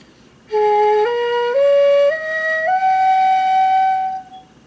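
A breathy hitoyogiri bamboo flute plays a slow rising Ichikotsu scale, stepping up note by note in clean, sustained tones, alone and close.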